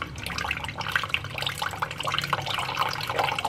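Water poured from a vessel onto sugar, specifically brown country sugar, while making wheat flour halwa, with a close, steady splashing and gurgling stream that trickles on throughout.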